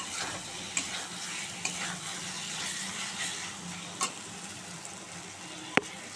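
Spice masala with Kashmiri chilli powder sizzles quietly in a pan as it is stirred, with occasional spoon scrapes and a sharp clink near the end.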